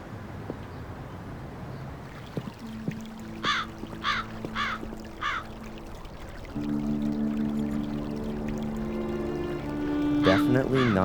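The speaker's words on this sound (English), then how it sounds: "I guess it's rainwater that's pumped up again and again." Water pours from a pump in the adventure game Black Mirror III, a steady stream growing louder in the second half, while crows caw in bursts and someone talks over it.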